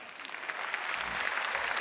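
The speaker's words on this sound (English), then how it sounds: "Applause for Dan." Brief burst of audience applause in a lecture hall, many hands clapping together in a dense, steady patter at moderate volume.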